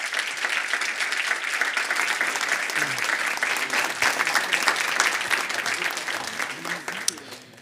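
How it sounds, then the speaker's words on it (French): A large audience applauds loudly and steadily for footballer Blaise Matuidi, French Tech Tremplin ambassador, at the 2023-2024 laureates announcement, the dense clapping sustained throughout with a brief sharper clap near the end. "Je vous demande de remercier à distance, en l'applaudissant très fort, Blaise Matuidi,"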